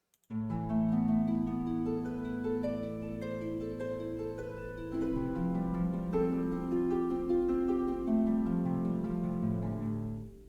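Harp playing a flowing triplet arpeggio with a simple melody on top, soft, sustained notes that overlap and ring, in a gentle, continuous pattern with a brief pause around the middle.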